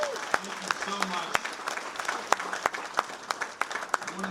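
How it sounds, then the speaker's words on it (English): An audience at a speech gives a sustained round of applause, a dense crackle of many hands with sharper individual claps popping out, and faint voices mixed in. "Give yourselves all a big round of applause."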